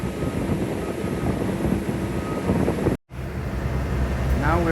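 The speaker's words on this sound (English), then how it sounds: "Little plane right there." A small propeller plane carrying about four people drones steadily at close range, a broad rumbling engine noise mixed with wind buffeting the microphone, with a brief dropout midway.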